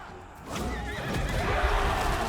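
A horse whinnies amid the clatter and rumble of a battle in the strategy game Total War: Three Kingdoms, the neigh rising out of a dense, loud background of hooves and combat noise.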